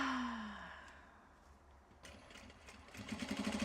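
A sewing machine near a quiet workspace, first a fading whir, then a faint lull, then the motor picking up into a rapid rhythmic stitching chatter that grows louder toward the end.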